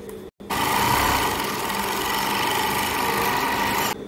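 A sewing machine with its differential feed lever lowered stitches rigid fabric, its motor running in a steady, loud whir for about three and a half seconds after a brief stop at the start.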